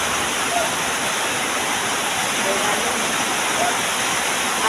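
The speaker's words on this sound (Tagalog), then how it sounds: "Kira ulan na guys." Steady, dense rain falls outdoors in a continuous even hiss, loud and close, with no breaks over several seconds.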